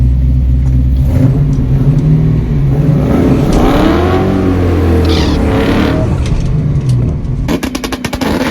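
A car revs hard at a drag strip while trying to spin its wheels for a burnout, its loud, close engine rising and falling in a sustained roar before rattling off near the end.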